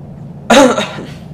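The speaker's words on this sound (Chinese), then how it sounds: "咳嗽一下。" A single short cough, sharp and close, in an otherwise quiet room, with a faint tail after it.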